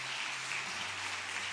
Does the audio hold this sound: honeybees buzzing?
no